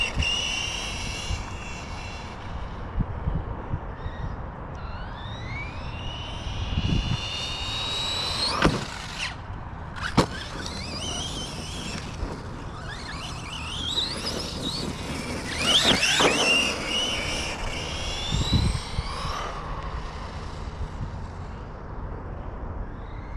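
Team Associated Rival MT10 RC monster truck running at full speed on its stock ESC, whining electric motor rising and falling with sharp bursts and a harsh impact near the middle, continuous and moderately loud with no talk.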